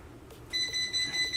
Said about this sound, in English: Alright, timer's almost up.